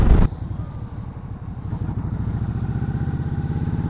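A 2021 Indian Scout Bobber ABS motorcycle engine runs while riding. A sharp burst comes first, then a steady, loud, close-up pulsing rumble that builds a little.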